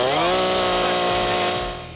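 A chainsaw runs loud and steady throughout, its engine tone shifting slightly and easing off near the end.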